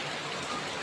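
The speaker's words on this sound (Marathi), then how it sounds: "किती जोरदार पाऊस लागला आमच्याकडं" Heavy rain falls at night in a forest, a steady, fairly quiet wash of hiss with no break and no voices.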